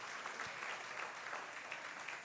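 Applause from a church congregation during a sermon, a faint, steady wash of many hands clapping at a distance with no voices over it.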